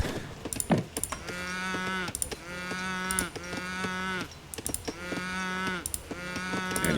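Cattle in the Age of Empires III game lowing repeatedly, four or five long drawn-out moos in a steady rhythm with short gaps, loud and close, no talking.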